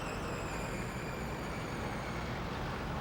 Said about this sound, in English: Rush hour in most major cities and towns provide an influx of pollution and noise